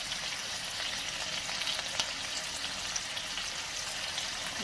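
Githeri, a vegetarian maize-and-bean mixture, cooks in a pan with a steady, close, hissing sizzle and faint bubbling crackles, constant in level throughout, with no voices.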